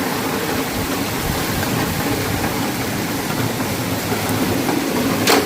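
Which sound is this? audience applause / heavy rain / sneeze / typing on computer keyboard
heavy rain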